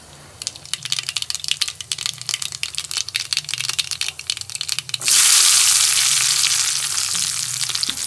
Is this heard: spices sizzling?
yes